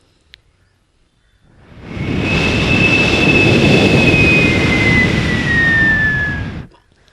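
A folk performer's voice imitates an airplane on stage in Karmala, Solapur: a loud, steady roaring whoosh with a slowly falling whistle, held for about five seconds with no other sound.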